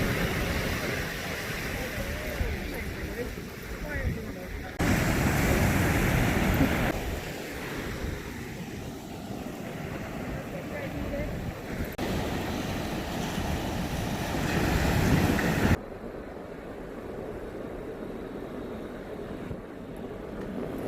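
Ocean surf and gusty wind at a dog beach in Santa Cruz, California, a broad steady wash of waves with wind buffeting the microphone that shifts in loudness.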